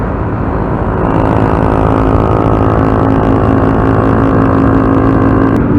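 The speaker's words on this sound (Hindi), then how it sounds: "ये है जी माहिर की बाइक।" A Yamaha YBR 125 motorcycle on a mountain road ride, its small single-cylinder engine droning loud and close with steady wind and road noise throughout.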